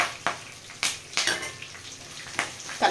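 Curry leaves being added to puffed rice (murmure) frying in a pan at home, with quiet scraping and stirring strokes coming in irregular bursts over a soft sizzle, close by and with no one talking.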